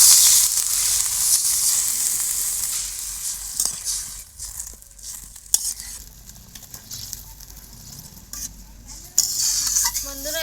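Masala being stirred and mixed with fried tengra fish in a pan for a village-style oil-and-chili curry, giving a steady close scrape and sizzle that runs throughout with brief pauses and a few clinks.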